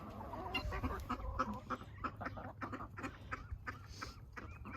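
Chickens cluck repeatedly in short, uneven bursts close by near their coop, with ducks and other fowl calling around them in a busy farmyard on a chilly morning.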